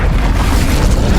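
A loud, dense burst of magical fire from the Incendio spell in Hogwarts Legacy fills the whole moment with a continuous roaring, booming blast, alone and close.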